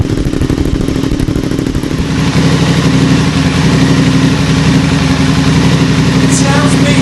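An Aprilia RS660 sport motorcycle engine idles loudly and steadily nearby, breaking in a new exhaust, with a deep, even rumble throughout and a faint voice briefly audible toward the end.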